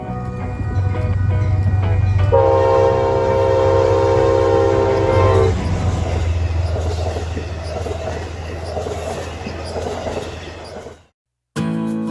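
Amtrak's Ethan Allen Express passenger train rolls past at Burlington Union Station, a loud horn blast sounding over the heavy rumble of wheels and cars before the noise cuts off abruptly.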